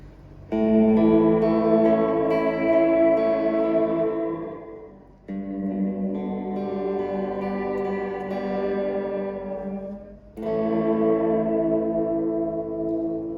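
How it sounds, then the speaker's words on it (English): An electric guitar runs through a Fender Reflecting Pool pedal set to digital delay at setting 1, playing three sustained phrases whose notes ring out with trailing echoes and fade into brief pauses. "So now back to digital for the delay pedal with 1."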